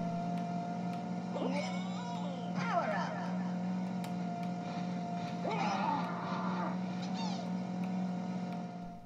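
Diddy Kong Racing played on an N64 emulator through RetroArch with the Parallel core, giving a steady buzzing kart engine drone with rising and falling whine sweeps and chirpy effects, continuous and fairly loud with no talk.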